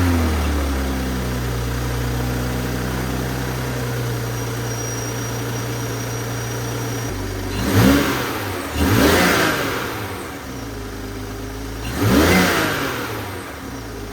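A Toyota GR Supra 3.0 engine with a JB Plus tuner cranks and catches, settles into a steady idle, then revs up three times in short bursts before dropping back.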